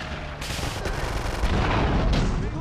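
Gunfire in Grand Theft Auto 3 during a shootout: a dense, sustained roar of overlapping shots and booms with several sharper cracks, loud and continuous throughout.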